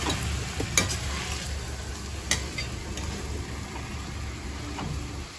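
Small dried shrimp (chennakunni) sauté in oil under a steady sizzle, with a few sharp scrapes and clinks of a spoon stirring against the pan.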